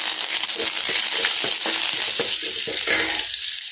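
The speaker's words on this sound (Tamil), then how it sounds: "சின்ன வெங்காயம் சேர்த்துட்டு வதக்கி விடுங்க." Shallots and curry leaves sautéing in hot oil for tomato rasam, a loud steady sizzle with repeated scraping stirs of a spoon at an even rhythm, close up with no talking.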